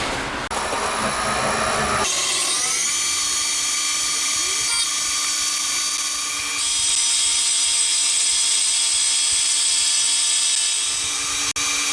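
A crankshaft for a 125cc four-cylinder, 16-valve engine is machined on a lathe, giving a steady high metallic whine and tonal cutting hum with shifting pitches and a sharp click near the end.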